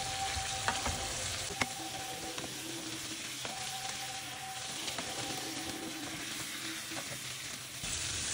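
Prawns sizzle in a hot pan after being flipped, a continuous close frying hiss with intermittent stirring and clinks of a utensil, no voices over it.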